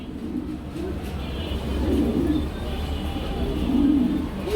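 Pigeons coo at a wholesale pigeon market, with soft low rounded calls repeating at intervals over a steady background murmur.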